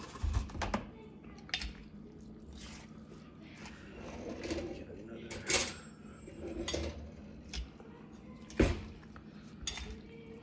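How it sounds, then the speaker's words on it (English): Lao papaya salad stirred in a bowl, with irregular clinks and scrapes of a utensil against the bowl over a low steady background, close up and moderately loud, with no talking. "I'm gonna do some stirring instead"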